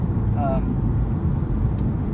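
A car driving in traffic, with a steady low engine and road rumble throughout and a brief higher whine, while a voice talks over it.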